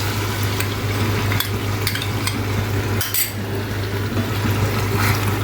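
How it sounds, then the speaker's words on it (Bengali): Fresh cream (malai) poured into half-cooked chicken for Hungarian chicken gives a steady, close sizzle with a few light utensil clinks, with no one talking. "এবার আমি এর মধ্যে মালাইগুলো ঢেলে দেব মালাইগুলো ঢেলে দিচ্ছি"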